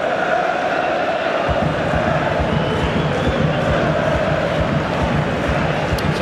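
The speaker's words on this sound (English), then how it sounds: "The crowd on their feet here," An A-League football crowd at Melbourne Victory's home match stands and urges on the home team, a loud, dense roar with rhythmic stamping or clapping beneath it, steady throughout.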